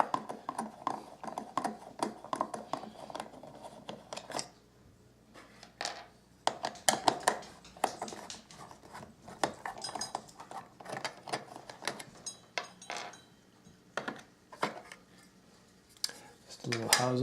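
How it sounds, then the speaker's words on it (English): Small metal screws being loosened and removed from the housing of a 2014 Steam Machine console, heard as irregular close clicks, scrapes and rattles of metal against metal, with brief louder clatters and no talking. "So I'm going to unscrew all these screws."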